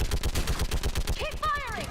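Rapid automatic gunfire in a Mass Effect 3 battle on Thessia, a loud, even burst of repeated shots, followed by high whining energy-weapon or laser sweeps at the end.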